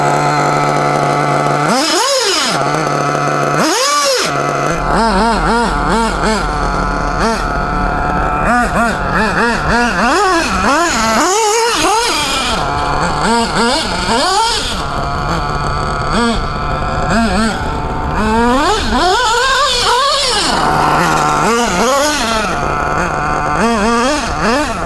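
A small high-revving RB C6 nitro engine in a Kyosho MP777 RC car screams up and down in repeated bursts, loud and close, with brief pauses between throttle blips.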